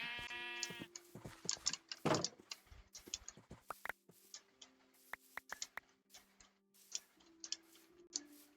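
Sheep bleating in a video game, short wavering bleats early on followed by a string of sharp ticking clicks and game sounds, moderately loud with no speech.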